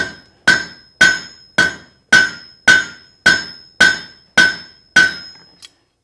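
A hammer strikes hot steel on the edge of an anvil while a meat hook is forged, ten loud ringing blows at an even pace, each with a bright metallic ring that fades before the next, then a faint final tap.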